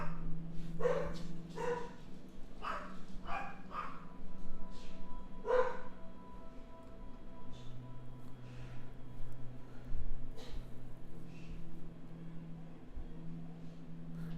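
Several dogs bark in repeated short bursts, moderately near, with yips mixed in among a low, steady background hum and a faint sustained tone.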